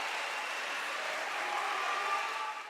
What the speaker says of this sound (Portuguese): e foram aplaudidos de pé.